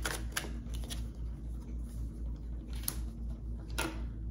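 Tarot cards shuffled by hand in soft repeated riffles and flicks, quiet and close, against a low steady background hum with no talking.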